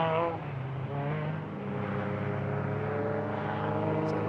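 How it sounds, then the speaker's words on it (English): Naturally aspirated K24-powered Honda Civic EG race car at a time attack event, its engine note steady and sustained with shifting harmonics as it downshifts and gets back on power, heard from a distance over crowd ambience. "Let's listen to the downshifts, the power application."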